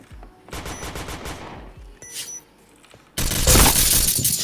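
Counter-Strike gunfire: a rapid burst of automatic shots, a brief pause with a few sharp metallic pings, then a loud, dense stretch of continuous fire and crashing near the end, close and loud.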